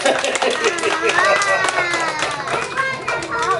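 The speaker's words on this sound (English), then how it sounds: "Everybody clap and go," Children at a live family stage show clap along in a quick burst. The clapping is mixed with excited young voices calling out.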